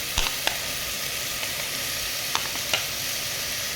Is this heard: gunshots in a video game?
no